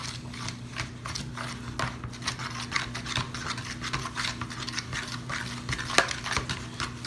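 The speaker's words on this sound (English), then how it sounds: "we're going to take this and mix this all together, and this is our dough" Keto pizza dough with eggs being stirred and mixed by hand in a bowl, a steady run of soft scraping, rubbing strokes with occasional clinks, close and continuous with a low hum underneath.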